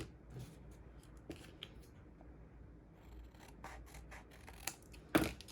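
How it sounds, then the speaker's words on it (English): Scissors snipping excess card stock at a craft table while making Christmas shaker cards, a few quiet scattered cuts and rustles ending in a sharper snip near the end. "I'm going to go ahead and line this up and cut off the extra now"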